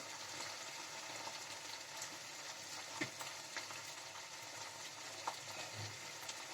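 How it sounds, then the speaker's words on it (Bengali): Turmeric, chili and cumin powder spices frying in fish oil, a steady broadband sizzle with occasional soft stirring scrapes, close and continuous with no talk. "দিয়ে আমি এবার মশলাটা ভাজা ভাজা করে নিচ্ছি।"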